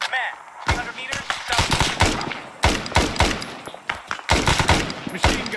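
Machine gun fire in ARMA 3, dense bursts of loud rapid shots separated by short pauses, with sharp single cracks between them and a voice briefly heard under the shooting.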